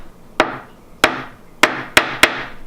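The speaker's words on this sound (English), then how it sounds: "that's the sound of cold, frozen hot dogs" Frozen-solid hot dogs knock together in five sharp, hard wooden-sounding clacks, irregularly spaced and close up, each ringing briefly before fading, with no voices.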